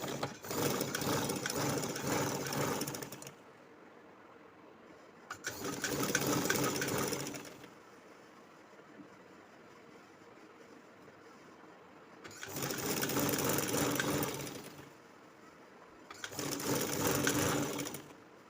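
A sewing machine stitches a kurti seam in four separate bursts of steady whirring, each a few seconds long, with quiet pauses in between.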